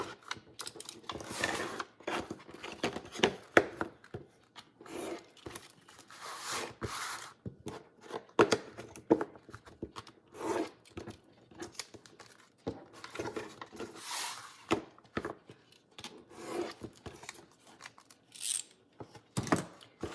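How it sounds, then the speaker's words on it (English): Excess chipboard is trimmed with a right-angle cutting tool, giving quiet, close scraping and snipping sounds in irregular bursts, with short pauses between cuts. "you just put that onto your chipboard and you just cut off that excess."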